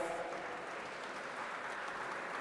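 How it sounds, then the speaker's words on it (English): Sustained applause from a conference audience at a student parliament event, a steady even wash of clapping that holds at a constant level throughout, faint and somewhat distant, with no voices standing out. "A big round of applause, my friends."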